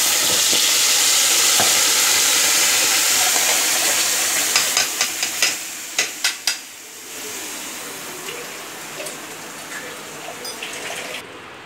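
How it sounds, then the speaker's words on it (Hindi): Ground masala paste roasting in a hot pan for Punjabi-style jackfruit curry gives a steady close sizzle, with a run of sharp spoon scrapes and clinks in the middle. The frying fades slightly toward the end. No one speaks. "अब इस मसाले को अच्छे से भून लेंगे।"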